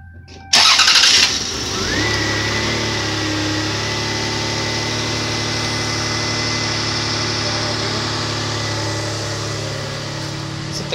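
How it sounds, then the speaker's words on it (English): A Toyota car with a suspected idle air control valve fault cranks and catches on a cold start, then settles into a loud, steady idle with a constant hum heard up close for about ten seconds. "this is the first time the engine started all day"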